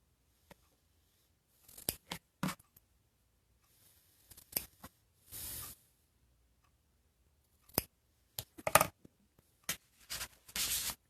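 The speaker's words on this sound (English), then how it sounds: "But I snip to the corners." Scissors snip paper in short, separate bursts while cutting Dresden-plate style picture window pieces, with quiet pauses between the crisp cuts and a rustle of paper.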